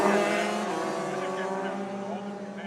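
DD2 racing karts brake and dive into turn 1 at Zwartkops Raceway, a sustained buzzing two-stroke engine whine with pitch shifts as they slow, fairly close and continuous.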